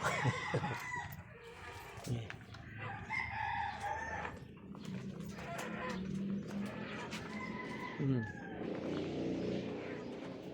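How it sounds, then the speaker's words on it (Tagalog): A rooster crows and chickens cluck nearby, with people talking and a car passing in the background. "Nanunuka yung manok."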